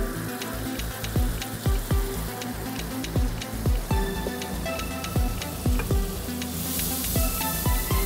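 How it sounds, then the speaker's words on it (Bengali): Butter sizzles steadily in a hot pan while lemon butter dory fish is prepared, with a constant crackling fry and a run of sharp, close ticking pops and spatters throughout, no voices. "সো আমাদের প্যানটা বোধহয় গরম হয়ে গিয়েছে, এখন আমরা বাটারটা দিয়ে দিব"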